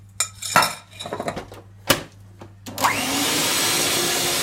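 Chocolate muffin batter being mixed with melted butter: a few clinks and scrapes against the bowl, then a steady loud whirring mixer runs continuously to the end.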